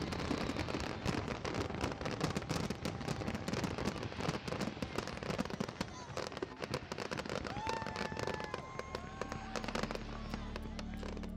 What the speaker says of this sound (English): all the fireworks went off in the span of about 30 seconds